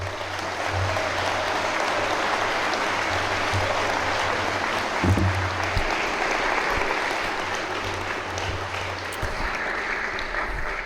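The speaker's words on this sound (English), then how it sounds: "Let's give them a round of applause" An audience applauds a state senator and a city councilman as they come to the podium at a school honoring event, a steady, continuous wash of clapping from a large crowd that holds throughout.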